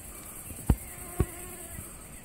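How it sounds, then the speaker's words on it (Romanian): A swarm of mosquitoes by the Prut River gives a faint, steady high whine throughout, broken by two short low thumps partway through. "Așa sunt țânțari."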